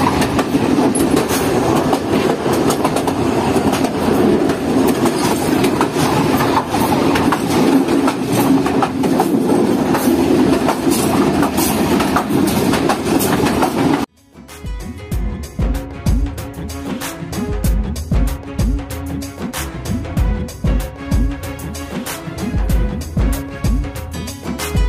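Mohen Jo Daro Express train running on the main line near a rural station in Pakistan, a steady loud rumble with rapid clickety-clack of wheels on rails, then a sharp cut to closer, heavier rhythmic wheel thumps and rattling.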